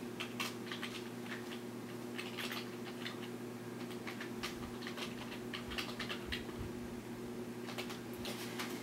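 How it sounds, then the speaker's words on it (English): Typing a new password on a Mac keyboard: a string of light, quick key clicks in uneven bursts, fairly close, over a steady low electrical hum, with no speech. "Type in the new password you want to have."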